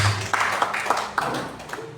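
A church congregation claps hands during a Sunday service, a few scattered, fairly close claps in an uneven rhythm over a low background hum.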